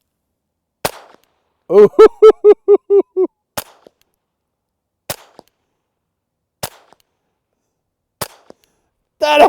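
Gunshots from a pistol fitted with a Rugged Oculus 22 modular rimfire suppressor in its short configuration, with a series of sharp, fairly loud cracks spaced irregularly across the stretch and a brief exclamation from a person.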